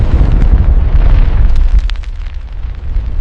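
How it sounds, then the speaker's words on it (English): A nuclear explosion plays back as a loud, continuous, low rumbling roar with crackling bursts near the middle, easing slightly toward the end. "During the nuclear blast."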